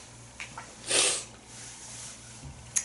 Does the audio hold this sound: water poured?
no